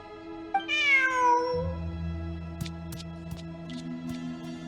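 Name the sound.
cat meowing in video game Genshin Impact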